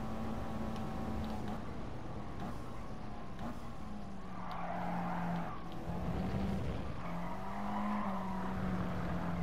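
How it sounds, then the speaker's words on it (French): A Nissan 180SX in the racing game GT Sport brakes hard and skids, with a wavering tire squeal over the engine drone, fairly quiet and continuous, while someone speaks briefly. "un gros freinage en bas."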